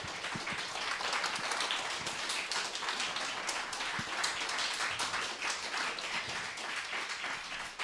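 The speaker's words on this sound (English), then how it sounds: "give him a huge round of applause" An audience at a piano recital claps steadily, a dense, even patter of applause that stays at a constant level from start to finish.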